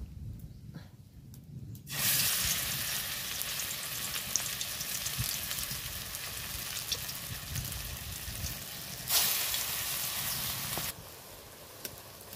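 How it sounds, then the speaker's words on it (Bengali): Lentil and thankuni leaf fritters sizzle steadily in hot oil in a pan, a broad crackling hiss that swells louder around the second and ninth seconds before easing back, with no talking. "দেখো আমি কয়েকটা বড়া দিয়ে দিয়েছি, আর আমি এটা উল্টে পাল্টে ভালো করে ভেজে নেব।"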